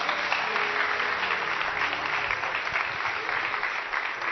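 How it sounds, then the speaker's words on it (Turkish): A studio audience at a Turkish television talk show claps in a steady, sustained burst of applause, slightly muffled and unbroken from start to finish. "Bir alkış Abdullah."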